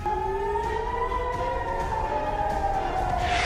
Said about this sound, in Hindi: कई इलाकों में सायरन गूंज उठे